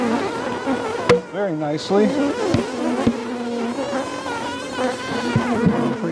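Honeybee swarm in a garden cart: a continuous close insect buzz hums beneath intermittent talking, with occasional knocks and clatters.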